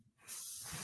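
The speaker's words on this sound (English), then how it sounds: "right now I'm just spraying it with water" A spray bottle hisses once, spraying water onto grout in a model train room, a short steady close spritz after a moment of near silence.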